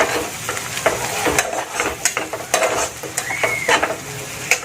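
Coriander and cumin powder sauté in a pan for a hilsa fish roe masala curry, busy sizzling under rapid, irregular scraping and clinking of a spatula, close and fairly loud.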